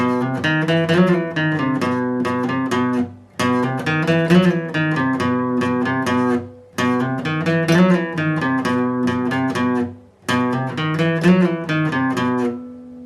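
Guitar playing riff B of a song at full speed, four repeated chugging passages of steady strummed chords separated by brief gaps, loud and close with no voices.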